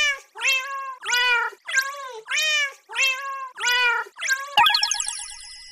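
A Minecraft cat meows eight times in a steady, evenly spaced series of clear, close calls, followed by a bright springy boing at the end.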